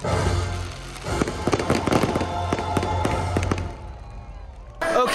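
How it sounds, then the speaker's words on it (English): Fireworks show at sea aboard a Disney Cruise ship on Pirate Night near Ensenada: a rapid series of loud booms and sharp crackling bursts over a steady low rumble, ending abruptly into near quiet. "fireworks just ended"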